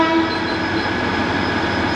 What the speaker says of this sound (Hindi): और ट्रेन आगे की तरफ निकल गई है